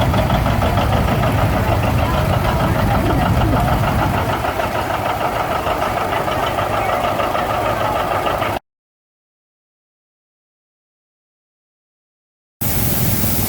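A John Deere 730 tractor, ridden in Chesaning, Michigan, runs with a steady, loud engine drone that continues for several seconds, drops out briefly, then returns.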